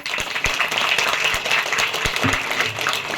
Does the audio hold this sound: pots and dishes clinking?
no